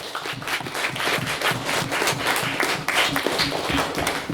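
An audience at a student debating society event applauds the speakers, a dense, steady wash of many hands clapping that holds at full strength throughout without a voice on top.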